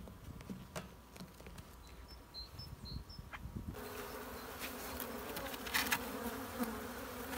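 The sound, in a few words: honey bees shaken off hive frames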